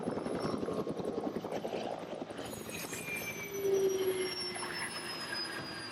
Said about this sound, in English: a helicopter descends nearby.